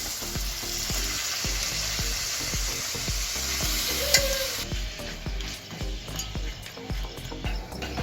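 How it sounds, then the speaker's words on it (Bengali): Chicken pieces frying in a pan of oil and melted butter for chicken macaroni pasta: a steady close sizzle with regular stirring clicks and one brief clink. No one speaks. "এবার আমি চিকেনগুলোকে দিয়ে দেব।"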